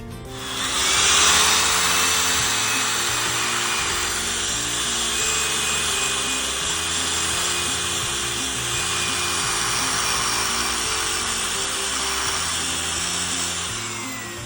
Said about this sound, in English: Paint eater, what they kind of call them. I'm not exactly sure what it is, but it's a little fiberglass wheel.